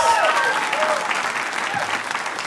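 A comedy-show audience gives warm applause as a debut stand-up comedian is introduced, dense steady clapping that runs throughout, with a few voices and faint whistles mixed in.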